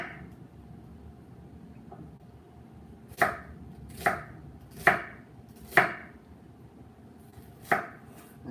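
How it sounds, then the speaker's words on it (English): A knife chopping onion on a board, about six distinct close thuds at slow, uneven intervals over a quiet room background. "So let's chop some onion."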